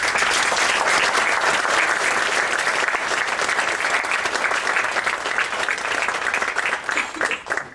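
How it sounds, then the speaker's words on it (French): Dense, sustained applause from a conference audience fills the room, steady and loud throughout before thinning slightly near the end. "je voudrais que vous les applaudissiez"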